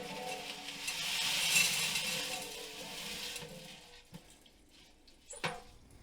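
Liquid poured from a container into a 4-liter beaker during gold refining, a swelling splashy gush that tapers off, followed by a few faint clinks and drips.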